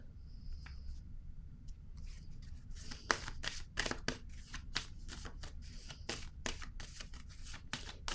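Tarot cards shuffle in a steady run of crisp riffling snaps and rustles, close and fairly quiet, with no one talking.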